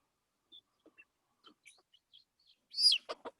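Scattered soft clucks and chirps from farm chickens, then a louder burst of squawking and a few quick calls near the end.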